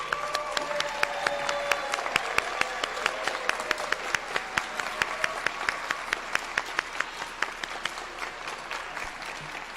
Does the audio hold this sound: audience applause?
yes